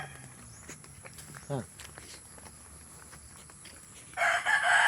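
A fighting rooster lets out a short crow near a chicken coop on rural land in Davao, heard at moderate distance among footsteps and people talking, with a louder burst of outdoor noise near the end.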